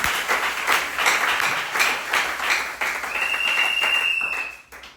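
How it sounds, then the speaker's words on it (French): A church congregation at a Tuesday worship service claps in uneven bursts, moderately loud and rhythmic in places, with a sustained tone sounding over it in the latter half. "Applaudissez le Seigneur."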